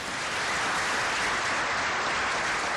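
A crowd at a civic State of the City address gives a steady, dense round of applause, continuous clapping throughout with no talking.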